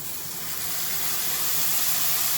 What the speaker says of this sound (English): just enough to coat those onions, let it steam off